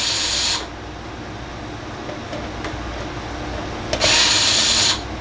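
Power drill removing screws from a Rinnai non-condensing tankless water heater, two short bursts of whirring, one at the start and one about a second long near the end, separated by a quiet pause.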